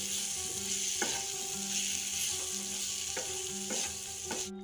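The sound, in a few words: carrot pickle with roasted spices and amchur being stirred and cooked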